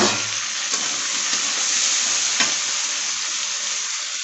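A steady, loud sizzle of potato stems frying in a pan with ginger-garlic paste, turmeric, chili and cumin powders, broken by a couple of quick stirring scrapes.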